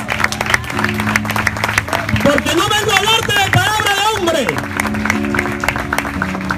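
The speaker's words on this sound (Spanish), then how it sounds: "Dale un aplauso fortísimo al Señor" A church congregation claps during a sermon while a preacher speaks over it and sustained musical tones sound beneath, the applause a busy background wash rather than the loudest element.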